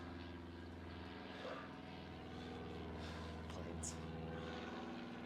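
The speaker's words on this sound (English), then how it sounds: "Planes." An airplane passing overhead outdoors during a yoga session, a faint steady propeller-like drone that hums continuously beneath a quiet background for several seconds.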